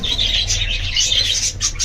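Pet birds chirp in a steady high twittering chorus with soft wing flaps, close and fairly loud, with no talking.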